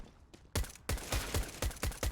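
Counter-Strike gunfire during a competitive match: a sequence of sharp, punchy shots in an uneven rhythm, with a couple of spaced single cracks followed by a steadier string of loud, close reports.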